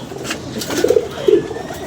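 Pigeons coo in a few short, throaty bursts, fairly close and clear over a soft background, with no talking.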